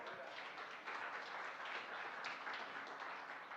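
A church congregation claps together in a dense, steady wash of applause that holds evenly through the moment, heard faintly, as if from a distance.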